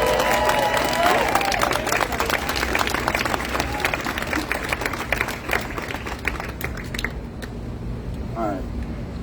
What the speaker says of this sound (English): let's give Kobe a huge round of applause